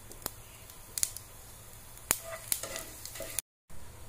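Whole cumin seeds dropped into hot mustard oil with a bay leaf give a faint, quiet sizzle, close by, broken by several sharp clicks and pops before a brief cut to silence.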